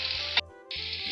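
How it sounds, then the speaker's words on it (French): Onion, leek and bell pepper sizzle in hot oil, a loud close hiss cut by a short gap of near quiet before the frying resumes. "Je vais faire revenir l'oignon, le poireau et le poivron."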